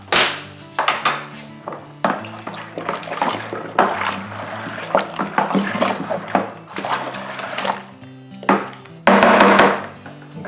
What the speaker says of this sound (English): and then we'll give that a good stir in as well.